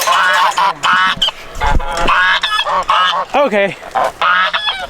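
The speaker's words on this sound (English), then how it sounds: "The geese are super loud like always" Geese honking loudly and repeatedly on a farm, harsh overlapping calls close by, with a brief spoken word in between.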